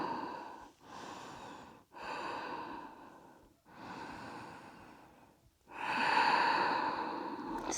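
Slow, deep breaths during a yoga session, four long airy inhales and exhales in a steady rhythm, close and clearly audible, with the last breath the strongest and no talking.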